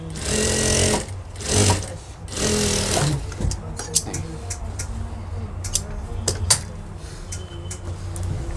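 A sewing machine stitches a child's school pant in several loud bursts of rapid whirring, then pauses filled with clicks and handling while someone talks.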